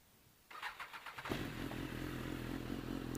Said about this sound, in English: first we'll start up the BMW S1000RR.